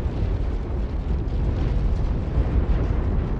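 A giant enemy mech blows up in the MechWarrior 5: Mercenaries video game, a continuous loud, dense roaring rumble of explosion debris that holds steady for several seconds with no voices over it.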